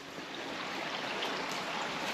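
A river rushing beneath a damaged, patched-up bridge in a valley, a steady broadband roar of flowing water heard close and continuous, with no voices.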